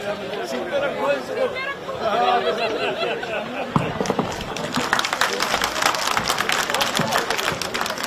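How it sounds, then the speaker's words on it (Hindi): A crowd at a BJP campaign rally applauds to welcome the Chief Minister. Murmuring and a voice come first, then thick, close clapping swells and carries on loudly to the end. "जोरदार तालियों से आदरणीय मुख्यमंत्री जी का स्वागत करें"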